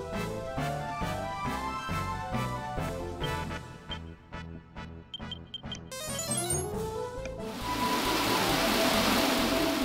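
A Coral Rain spell from the PS1 game Dragon Warrior VII plays as a chiptune-style rhythmic music passage with falling tones that gives way to a loud, steady hiss of synthetic rain.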